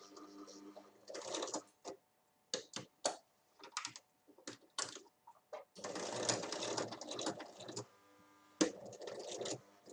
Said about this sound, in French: on va coudre d'abord ici pour fixer la boucle de réglage